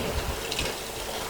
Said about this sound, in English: we will add cold water